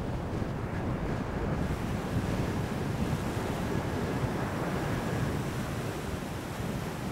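Steady wash of surf with a constant low rumble and wind buffeting the microphone, consistent with waves rolling onto a sandy bay beach in Australia, no voices.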